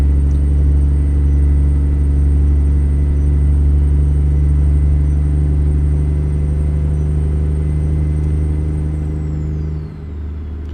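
Deep, steady diesel rumble of a Kenworth W900 with a 14-liter engine in American Truck Simulator, a loud low drone with a constant tone that eases and drops off near the end.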